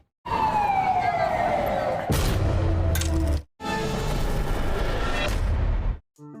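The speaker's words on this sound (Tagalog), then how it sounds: "nitong si Rigor dahil sa pagsabog nga sa naturang building ay hindi nga napuruhan itong si Dimagiba" A building blows up in a scene from the Filipino TV drama Batang Quiapo: a loud, falling whine gives way to heavy booming blasts and a sustained roar, cut off abruptly twice, with a faint tone at the end.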